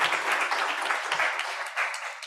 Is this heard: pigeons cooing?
no